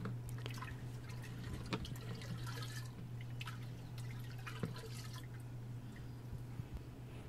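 Liquid nutrient solution is added to the water of a large 60-gallon Kratky hydroponic tank, making faint scattered drips and small splashes over a steady low electrical hum.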